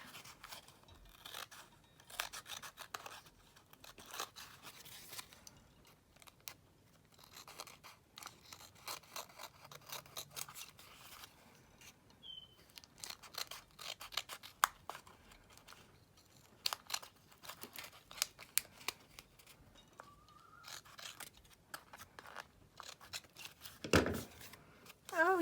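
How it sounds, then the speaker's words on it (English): Scissors snip the edges off a handmade affirmation card in quiet, close, repeated short cuts scattered over about twenty-five seconds, with faint paper rustling between them. "Then I'm going to cut those edges off."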